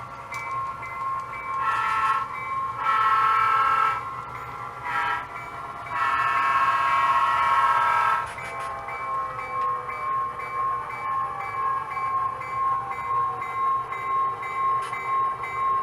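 A switcher locomotive backs up in a rail yard to couple onto a caboose, sounding several loud horn blasts of varying length over the steady rumble and clank of the moving train, heard from a moderate distance.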